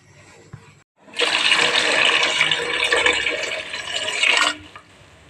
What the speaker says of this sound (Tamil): இதை தண்ணியை ஊற்றி நல்லா நம்ம காய்ச்சிக்கலாம்